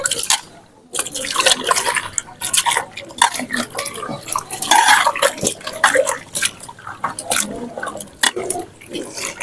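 Stinging catfish are washed by hand in water with papaya peel, giving irregular splashing, sloshing and dripping close by, with brief pauses between bursts.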